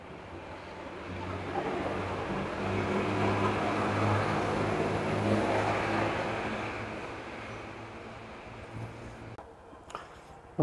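A vehicle engine idles steadily at 2 a.m. to warm up before an early market run, a constant low hum under broad rushing noise that fades slightly toward the end.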